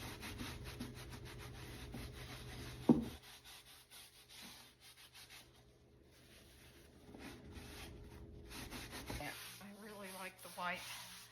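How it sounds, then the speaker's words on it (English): Dry white wax is buffed by hand on a thrifted wooden furniture piece, giving a close, steady rubbing and scuffing that eases off midway, with faint background noise and a brief knock. "so I'm going to start buffing it"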